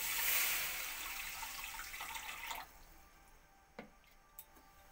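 Water poured onto sugar in a pan while making fried sweets: a steady splashing pour lasts about two and a half seconds, then a few faint, scattered drips follow in a quiet room.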